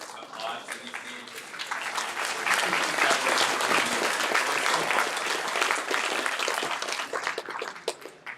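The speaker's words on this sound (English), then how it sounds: "Can we have one round of just applause for these teams?" Audience applause at a HackUTD hackathon closing ceremony, clapping swelling up after a quiet start into a full, steady round of many hands with some cheering, then dropping off at the close.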